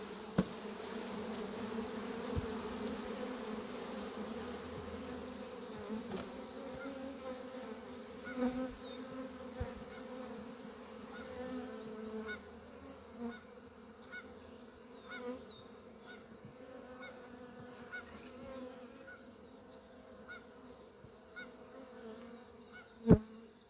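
A soft, steady hum of many bees buzzing together at a 3D-printed hive, with occasional faint clicks and knocks nearby.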